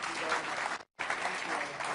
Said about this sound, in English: I don't know if you can hear the applause